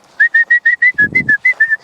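A rapid run of about ten short, high dog training whistle blasts in an even rhythm, close and loud, with a brief low rumble partway through.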